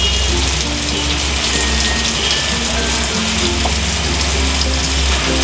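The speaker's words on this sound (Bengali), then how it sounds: "আমি এখন কিছুটা পরিমাণ জল ঢেলে দিচ্ছি।" Water poured into a pan of small sea fish curry gives a steady, continuous hiss and sizzle with a faint watery rush, close and fairly loud throughout.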